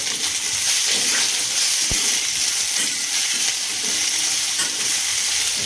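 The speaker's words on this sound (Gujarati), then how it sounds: "હવે આવશે સૂકું લસણ, એને પણ મિક્સ કરી દેવાનું છે એકદમ" Onion and dried garlic fry in a pan for a yogurt and chili chutney, with a loud, steady sizzle and the scrape and knock of stirring, and no talking.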